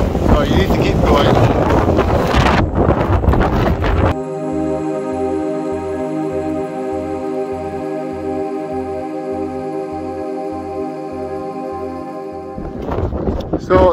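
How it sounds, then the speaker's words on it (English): Strong wind gusting across a mountain summit cairn on Ben Vorlich in the Arrochar Alps, roaring and buffeting the microphone loudly at the start and end, with a steady tonal stretch in the middle. "The wind has really picked up. You're probably going to get a lot of wind noise."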